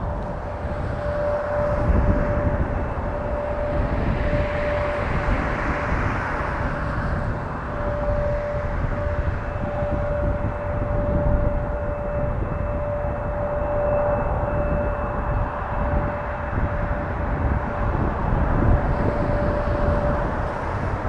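A jet airliner roars steadily during its takeoff run at Toronto Pearson airport, a broad rumble heard from a distance with a sustained high whine running through it, with no voices.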